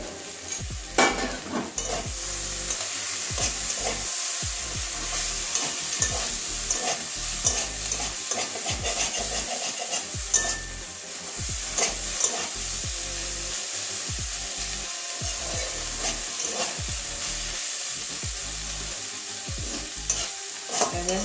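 Cauliflower fries in a pan over medium heat, with a steady sizzle throughout and repeated scraping stirs of a utensil against the pan, close and continuous without talk.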